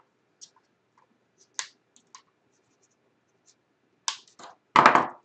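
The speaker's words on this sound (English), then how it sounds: "Cut off the leads." Snips cutting component leads on an electronics kit power supply build: sparse, sharp clicks and snaps spread out in a quiet room, ending in a louder scraping cluster.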